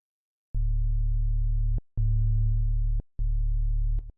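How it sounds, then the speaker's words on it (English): Synthesized 808 bass tone with an added third harmonic for a hybrid trap beat, sounding as three long, smooth, deep sustained notes, each cut off with a click, loud and alone. "this is with the third harmonic here."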